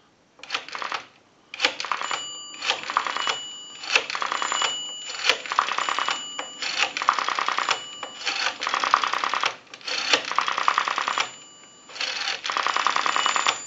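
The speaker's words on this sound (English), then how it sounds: "We're going to dial our numbers" Buttons dialed on an Automatic Electric three-slot payphone give repeated bursts of tone and clatter, a dozen or so short segments with brief gaps, close and fairly loud, with no voices.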